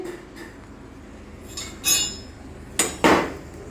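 Metal utensils clinking and knocking while a kitchen stove is wiped clean, a few separate sharp clanks and rattles against a quiet background, close by and with no talking.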